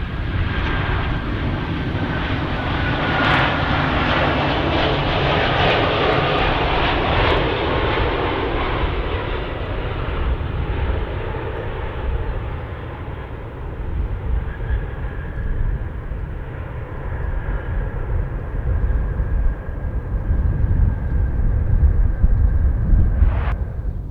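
A Western Global MD-11 jet landing at O'Hare on a bumpy approach, its engines a loud, continuous roar and rumble that holds steady and swells toward the end, close by and with no voices.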